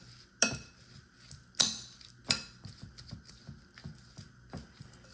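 Stirring a bearded dragon's chopped salad in a bowl, a few bright clinks of a utensil against the bowl followed by softer, uneven scraping and tapping, close and quiet.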